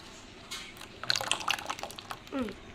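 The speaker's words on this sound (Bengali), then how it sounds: "দিয়ে দিচ্ছি একটু জল" Water is poured into a pan holding batter mix for khola pitha, giving a short liquid splash and trickle with a few drips, close by, with no talking.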